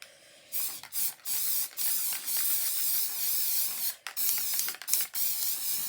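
Aerosol can of spray glue for a craft project, sprayed in a string of short hissing bursts and longer sustained blasts, close and fairly loud, with brief gaps between them.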